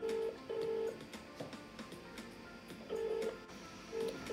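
A phone ring-back tone sounds in repeated short beeps, pausing between rings, faint and steady with no voices.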